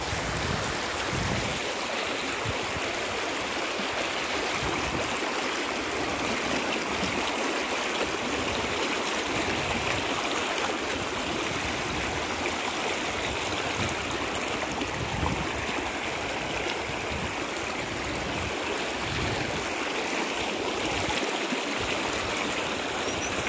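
A clear village stream flows nearby, a loud steady rushing of water that fills the whole stretch without pause.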